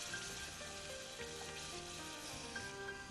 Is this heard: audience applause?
no